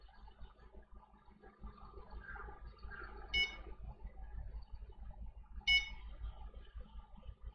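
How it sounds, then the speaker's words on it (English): Electronic fishing rod bite alarms in the Fishing Planet video game give two short bright beeps a couple of seconds apart over a low ambient waterside hum, faint and with no talk. "Got two rods beeping again."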